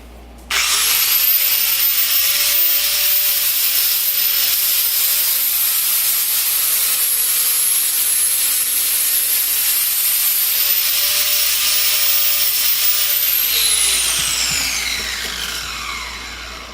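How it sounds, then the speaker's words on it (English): Steady, loud hissing grind of a tanto knife blade's bevel against an abrasive, starting abruptly and holding a high whine for many seconds, with the pitch shifting near the end as it winds down. "when grinding a knife, I've started just a little bit, you can sort of start to see the bevel take place there"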